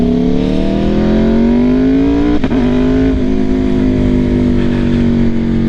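A 2016 Aprilia RSV4 RF motorcycle engine drones loud and close, its pitch climbing steadily before a sharp blip and drop as it downshifts, then settling into a steady hum.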